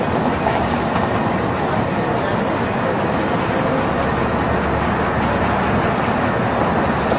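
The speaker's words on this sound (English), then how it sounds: "The train's right close." Steam train No. 476 of the Durango and Silverton narrow-gauge railroad passes close by with a steady loud rumble and rolling rail noise, unbroken and near.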